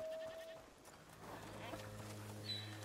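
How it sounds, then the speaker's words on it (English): Goats bleat in a village in the video game A Plague Tale: Requiem, a few short calls with a steady tonal drone and game ambience underneath, at moderate level with no speech over them. "Goats!"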